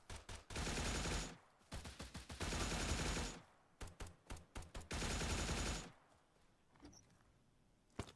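Video game gunfire in long sustained automatic bursts separated by clusters of single shots and short pauses, loud and close, fading to quiet near the end.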